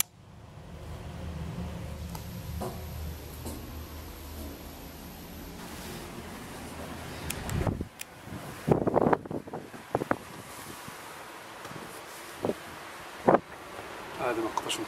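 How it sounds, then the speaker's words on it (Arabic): Strong wind buffets the microphone at Dar el Baroud in Tangier's old medina, a steady low roar across the whole stretch, with sharper bumps and handling knocks near the end and a voice talking over it. "مع الرياح قوية"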